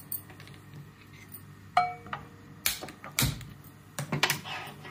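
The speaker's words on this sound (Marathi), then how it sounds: "नंतर आता इकडे गॅस चालू करते." Clicks and metallic clinks of a gas stove knob being turned on in a home kitchen, a few sharp close taps against a quiet background.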